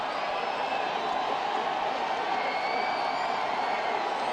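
At a 2022 Division 4 high school football game, Columbus vs Catholic Memorial, the crowd keeps up a constant, dense cheer with no pauses. It sounds broad and somewhat distant.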